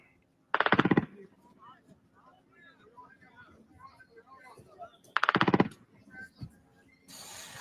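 Two short, loud bursts of rapid automatic machine gun fire about four seconds apart, each roughly half a second long, played from a night-time recording, with a voice speaking quietly in between.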